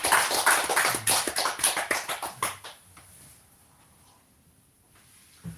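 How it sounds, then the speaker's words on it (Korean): Congregation at a Sunday church worship service clapping together, a brisk round of hand claps for about two and a half seconds that quickly fades into near silence. "서로를 위해서 또 우리 박수 한번 할까요?"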